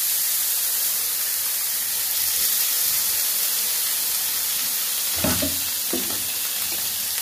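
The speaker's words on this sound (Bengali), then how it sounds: "চাটুটা গরম করতে বসিয়ে দিয়েছি। এবার একটু জল ছিটিয়ে দেবো।" Water sprinkled onto a hot tawa griddle heated for dosa, a constant loud steamy hiss and sizzle with a few sharper spattering bursts toward the end, no talking.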